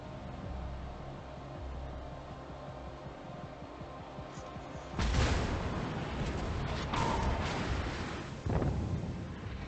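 Heavy battleship gun salvos boom in World of Warships, a game naval battle with a Giulio Cesare firing on an enemy König's broadside; loud low rumbling blasts land around five seconds in, then more thumps follow amid steady engine and sea noise.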